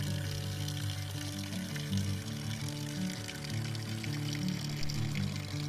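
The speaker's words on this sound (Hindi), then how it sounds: "ये ठंडे पानी के चश्मे आपको इन रास्तों पे अक्सर मिलेंगे" Cold natural spring water runs steadily along a forest trail in Ramban, Jammu and Kashmir, a continuous close pouring and gurgling flow with no pauses.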